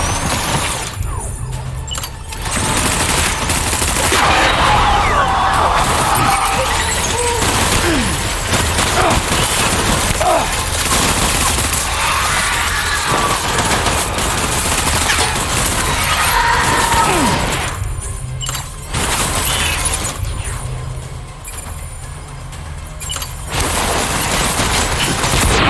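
Heavy, sustained gunfire and explosive booms from a combat encounter in the video game Death Stranding, rolling continuously at loud volume, with dense bursts and brief lulls near the start and end.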